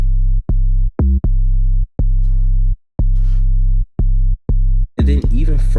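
Deep, distorted 808 bass synth notes play in a choppy rhythmic pattern, loud and buzzing with short gaps between hits.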